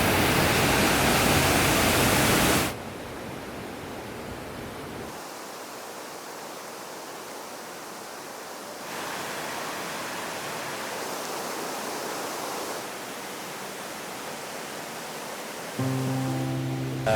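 A swollen, fast-running river on the trek toward Everest, too dangerous to ford, roars as a steady broadband wash. It stays close and loud throughout, with abrupt shifts in level and a brief tonal burst near the end, and no voices.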